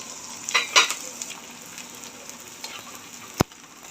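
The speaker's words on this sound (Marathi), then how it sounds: "बघा अशा प्रकारे मी सर्व डिंक तळून घेते" Edible gum (dink) frying in hot oil for methi laddoos, a soft steady sizzle with a few louder crackling bursts early on and one sharp click near the end, no voices.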